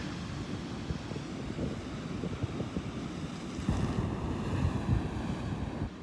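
Ocean surf rolls continuously onto a beach near an inlet, a broad steady roar that swells slightly partway through, with wind buffeting the microphone.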